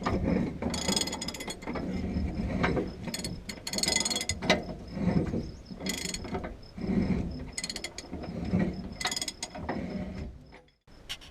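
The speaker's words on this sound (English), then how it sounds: "You take your ratchet and tighten her up" Ratchet wrench tightening a large nut on a 1996 Ford F250 while mounting an auxiliary tank, bursts of rapid clicking pawl strokes with short pauses between, close and clear.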